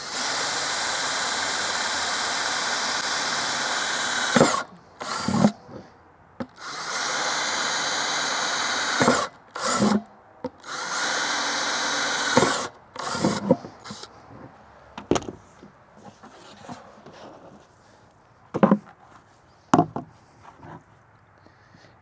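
A power drill whines loudly in several long bursts, drilling holes in plant pots, stopping and restarting, followed by shorter intermittent spurts and quieter handling noise.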